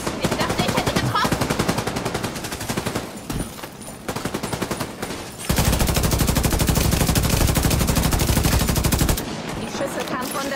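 Rapid automatic gunfire in the shooter game The Division 2, loud dense bursts of shots with a brief lull before a heavier sustained volley, then tapering into lighter shooting.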